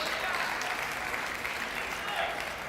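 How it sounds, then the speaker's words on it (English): Korean supporters in a packed, standing-room-only hall at the US Open finals in the Ontario Convention Center raise a steady wash of applause and cheering, with no clear individual voices standing out. "You can hear the Korean contingent cheering"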